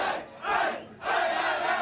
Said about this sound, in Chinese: 挤满了庆祝欢呼的群众